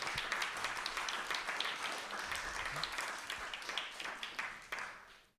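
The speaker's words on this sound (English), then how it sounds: "That's the Haribol and the clap." A crowd claps during Haribol chanting at a Hare Krishna temple service in Dallas, giving a dense, steady patter of many hands that is fairly faint and distant, fading out at the end.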